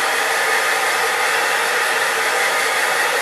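An old blow dryer runs on high heat, a loud, steady, close whoosh of fan and airflow with no change for the whole stretch and no voices.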